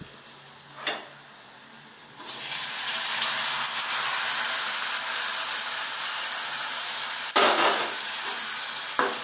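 Tomatoes seasoned with salt, chili powder and turmeric hit hot tempering oil, setting off a sudden loud, steady hiss that holds continuously after a few quieter taps and knocks, with one sharp clank near the end.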